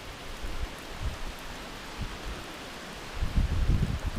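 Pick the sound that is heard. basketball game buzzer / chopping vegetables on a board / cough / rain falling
rain falling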